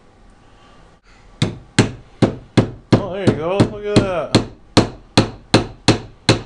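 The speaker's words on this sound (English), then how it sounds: "She's gonna use a hammer for the very first time." A child hammers on a homemade leprechaun trap for a school project, driving about a dozen sharp, evenly spaced metallic knocks at close range, with a short stretch of speech partway through.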